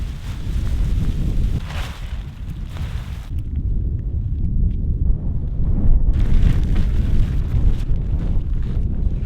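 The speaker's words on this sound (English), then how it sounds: "It is windy and it is hot." A strong desert wind storm in the badlands roars and buffets the microphone in loud, rumbling gusts, easing briefly midway before surging back, with no voices.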